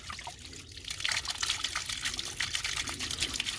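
Water gurgles and trickles steadily from a ram pump bubbling out air, with a bubbly, splashing flow that grows louder after a second and continues up close.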